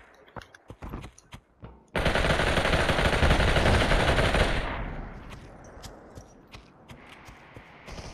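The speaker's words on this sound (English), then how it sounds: "Someone else is shooting him." Rapid automatic gunfire from the VR battle royale Population: One: a sustained loud burst of a few seconds, then fading and sparse distant shots with scattered footsteps.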